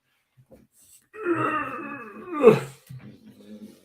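A dog close to the microphone gives a drawn-out grunting moan that swells to a loud peak, then trails off into a few softer snorts.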